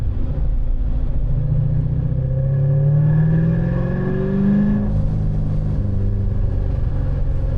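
Supercharged C7 Corvette with an ESS supercharger making about 600 wheel horsepower, heard from inside the cabin as a steady, loud engine drone with rising tones while it accelerates. A blow-off valve release may sit faintly in the mix, with no talk.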